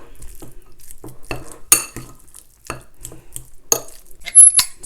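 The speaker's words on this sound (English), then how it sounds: "with the fork, or if you have a masher, whatever you have, we'll just start to mash it and mix it up" A fork mashes and mixes a dip in a bowl, giving irregular clinks and scrapes against the dish, with bursts of louder tapping between near-silent gaps.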